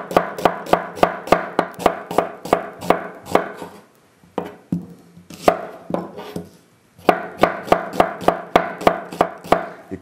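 A knife chops a vegetable into thick strips on a cutting board, a quick run of sharp, evenly spaced knocks that pauses briefly midway and then resumes at the same steady pace.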